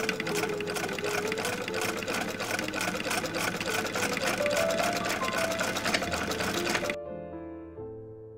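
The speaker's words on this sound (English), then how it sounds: "I first sew the darts of the hood." A sewing machine stitches the darts of a robe hood, running in a steady continuous whir with rapid needle chatter for about seven seconds before stopping, after which faint music continues.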